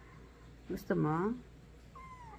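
A kitten gives one clear, close meow and then a thinner, fainter mew, with a person speaking softly just before.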